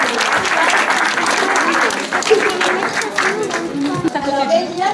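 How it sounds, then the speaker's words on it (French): An audience applauding children at a 2019 school event, loud continuous clapping from a crowd with chatter and voices mixed in, easing slightly toward the end. "Alors, vous pouvez applaudir."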